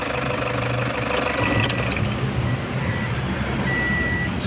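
A Toyota Hiace van engine idles with a steady, loud, knocking rumble that continues to the end without clearly dying away.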